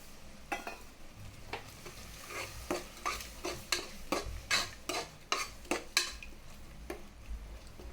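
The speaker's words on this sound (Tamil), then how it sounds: "நல்லா இப்படி கிளறி விட்டுக்கோங்க." Chili powder and yogurt being stirred into chicken for biryani in a metal vessel, a quiet run of rhythmic spoon clinks and scrapes, roughly a dozen strokes close by, with no one speaking.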